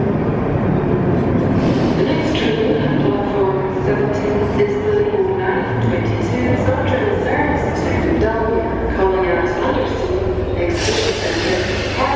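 A train bound for Dumbarton rumbles and clatters steadily nearby, with metallic rail noise and a rising hiss near the end, while voices murmur faintly underneath.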